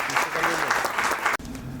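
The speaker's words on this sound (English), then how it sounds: "Everybody, please give a big round of applause for the best," A book launch audience claps in a dense burst for nearly two seconds, with a voice audible under the clapping before a brief drop and a softer tail.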